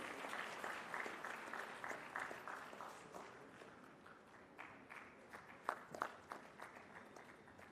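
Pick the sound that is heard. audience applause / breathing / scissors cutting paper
audience applause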